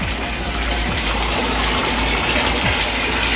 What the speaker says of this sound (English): Tibby is getting excited to take a bath. He's splashing in the water.